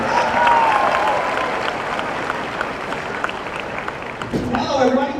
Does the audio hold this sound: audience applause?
yes